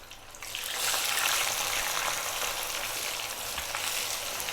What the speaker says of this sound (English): we're going to simply just fry them off